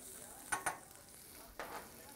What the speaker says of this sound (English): a little bit of minced red onion, and a little bit of minced carrot, all going in saute pan first.